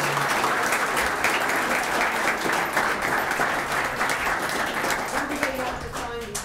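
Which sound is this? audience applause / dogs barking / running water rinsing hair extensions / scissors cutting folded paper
audience applause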